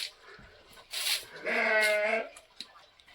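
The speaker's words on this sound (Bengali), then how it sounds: "পাহাড়ি ছাগল একটা।" A hill goat at Rammam Saino Homestay lets out one clear, close bleat lasting under a second, preceded by a couple of softer rustles and small sounds.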